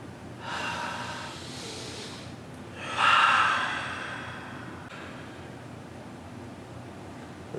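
Deep breaths taken by a basketball player before an interview, two slow breathy exhalations close to the microphone, the second louder and longer, with quiet room tone between and after.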